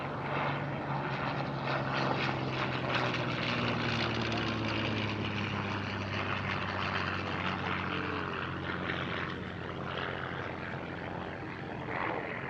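Morane-Saulnier D-3801, a Swiss license-built propeller fighter, droning steadily at an airshow near Paris-Villaroche, with a continuous loud engine hum and propeller buzz that holds throughout under faint crowd voices.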